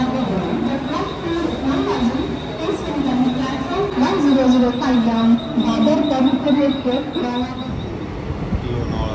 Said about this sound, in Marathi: बरोबर नऊ वाजता आपली ट्रेन हल्ली